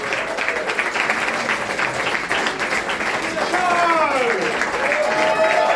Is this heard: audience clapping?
yes